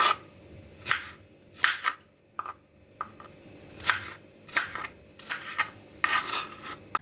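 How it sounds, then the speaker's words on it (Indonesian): A knife dices green tomatoes into small cubes on a cutting board, giving close, crisp, irregular chops in uneven bursts with short pauses and no talk. "Lalu potong-potong juga tomat hijau, dipotong-potong dadu kecil seperti tomat merahnya."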